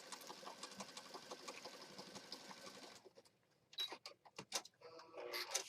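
A sewing machine stitches through a junk journal with a fast, steady mechanical chatter, then pauses and restarts in short irregular bursts, quiet and close with no talk.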